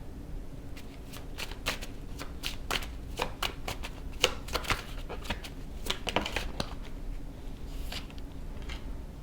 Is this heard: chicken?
no